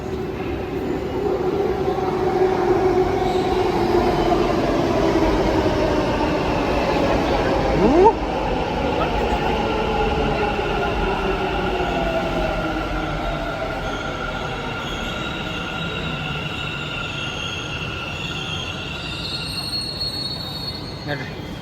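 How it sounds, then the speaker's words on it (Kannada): A train pulls into a station platform, its wheels squealing loudly with long drawn-out tonal screeches over a steady rumble that lasts throughout, with people talking nearby. "ರೈಲು ಈ ಕಡೆಯಿಂದ ಬರುತ್ತೆ"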